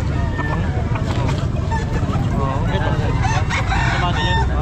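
Chickens and roosters at a pet market, with repeated crowing and clucking from several birds close by over busy background noise and people talking.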